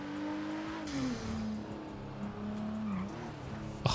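A car engine revs steadily in GTA 5, its pitch rising and dipping across a few seconds, loud and close with a faint tire-like squeal and no talking.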